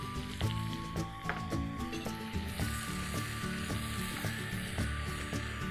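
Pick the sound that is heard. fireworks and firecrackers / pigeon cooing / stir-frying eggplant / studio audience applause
stir-frying eggplant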